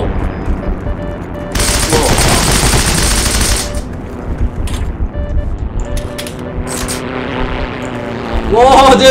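Rifle and submachine gun fire in the Heroes and Generals shooter game: dense rapid bursts and shots over constant battle noise and mechanical hum, with a player talking.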